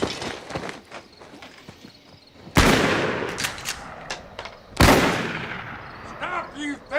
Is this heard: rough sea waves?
no